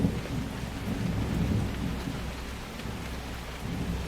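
Steady spring downpour on an island, with low rolling thunder rumbling beneath the dense hiss of rain throughout, fairly close and unbroken.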